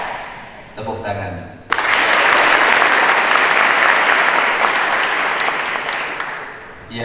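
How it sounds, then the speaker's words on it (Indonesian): A school audience at SMA Taruna Nusantara breaks into loud, sustained applause right after a short spoken phrase, the clapping bursting in and staying full and close before easing slightly. "Tepuk tangan."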